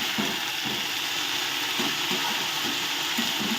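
Jute leaves (pat shak) fry in a pan with a continuous loud sizzle, broken by soft, rhythmic scraping thuds as they are stirred.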